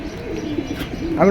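Pigeons coo nearby in soft, low, warbling calls, with a brighter chirp rising near the end.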